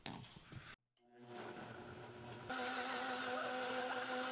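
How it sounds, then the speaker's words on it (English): Blender whirring loudly as it purees green pepper, pumpkin seeds and chicken broth, starting after a short pause and then rising to a steadier, higher-pitched whine as the blades spin freely. "And now we're going to blend until smooth."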